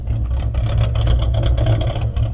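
A 2008 Mustang 4.0 V6 with an idle chop mod idles with a deep, lumpy, pulsing exhaust rumble, loud and close, with an uneven loping rhythm and no talk.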